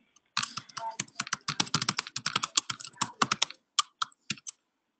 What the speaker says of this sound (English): Hey, Chris, we're hearing you're typing in the background